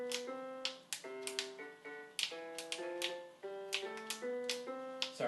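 Keys tapped one after another on a G-Board 24 prototype keyboard with sticky keys, each press sounding a clear pitched note in a quick stepping scale, close and alone.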